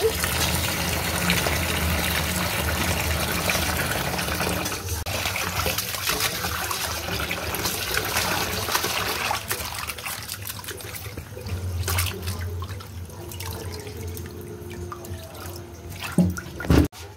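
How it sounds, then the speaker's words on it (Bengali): Running tap water pours steadily over small sarpunti fish being washed in a home kitchen, a continuous trickling gush with faint handling splashes toward the end. "এখানে আমি মাছগুলোকে ধুয়ে নিচ্ছি।"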